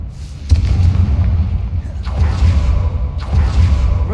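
The Confringo blasting curse in the video game Hogwarts Legacy goes off in three booming explosions at roughly even intervals, each a deep rumbling blast with a whooshing tail.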